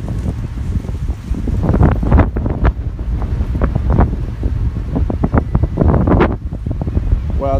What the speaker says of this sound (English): that's a pretty good little gust